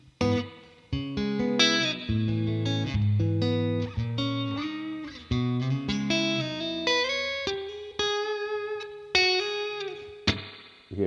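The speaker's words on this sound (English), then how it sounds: "You hear that reverb?" A clean electric guitar through a Fractal Audio small spring reverb plays a melodic run of single notes and chords, each phrase trailing into a springy, splashy reverb tail.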